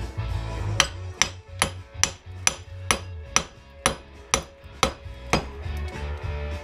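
A hammer drives a tool through a fluorescent light ballast in about eleven sharp, evenly spaced metallic strikes, close and loud, with no talking.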